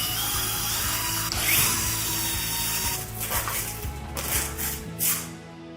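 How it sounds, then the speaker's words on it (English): A power drill whirs steadily with a grinding, ratcheting rhythm while drilling a small hole into a wall stud, its pitch shifting as it bites in, ending with a few louder bursts. "we're just gonna go ahead and drill a smaller hole into the studs"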